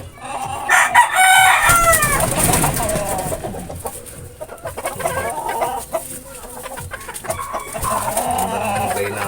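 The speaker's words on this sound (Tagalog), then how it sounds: "Magandang pulit to." Pullet chickens cluck and crow in a noisy poultry yard, several birds calling over one another at close range, loud and continuous throughout.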